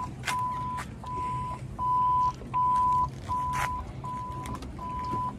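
A boat's radio beeps steadily at an even pace, seven short tones in a row, over low rumbling background noise.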